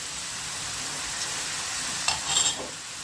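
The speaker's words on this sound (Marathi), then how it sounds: "कांदा छान भाजलं, लसूण भाजलेलं पण छान वास आलं." Chopped onion and garlic fry in hot oil, giving a steady, dense sizzle close by. A brief scrape of stirring rises near the end.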